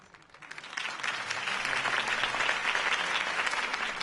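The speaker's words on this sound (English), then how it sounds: "If only Mr. Wayne, my campaign's largest backer, could have heard that applause" Steady crowd applause from the Telltale Batman video game, a dense wash of clapping that swells in after a quiet start and stays loud throughout.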